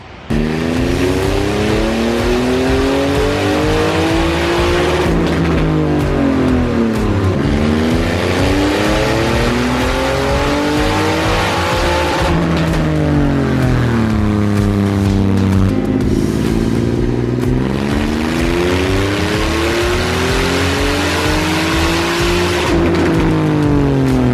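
A 2020 Triumph Rocket 3 GT motorcycle running on a dyno with a newly written map. Its big engine revs up and down in repeated loud, sweeping pulls, the pitch climbing and falling several times without a break, close up and alone.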